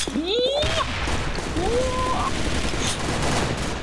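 Gunfire bursts from the first-person shooter game Sudden Attack sound as a brief cluster of shots near the start, under game music and effects, with a voice talking over the whole stretch.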